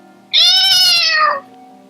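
A voice imitates a wailing cat in a single drawn-out, rising and falling meow lasting about a second, loud and close and heard alone.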